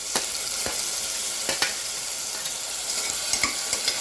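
Tomato fries with browned onion in a pan, giving a steady sizzle punctuated by sharp scrapes and taps of a spatula stirring, close and clear without any talking.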